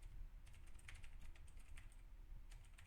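Keys on a computer keyboard tapped in quick irregular bursts while an email address is entered, close and fairly quiet over a low steady hum.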